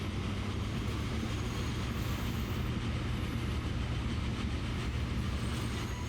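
A train runs in the Transport Fever video game with a steady low rumble and faint rail clatter, continuous and moderately quiet, with no talk.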